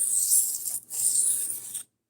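A knife is drawn across a wet 400 grit Cheefarcuut whetstone in two harsh, raspy grinding strokes with a short gap between them, close up, then silence.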